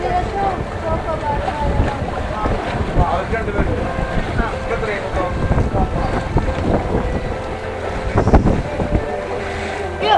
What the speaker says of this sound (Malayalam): നമ്മുടെ വഞ്ചി വീണ്ടും ഓടി തുടങ്ങിയിട്ട് കേട്ടോ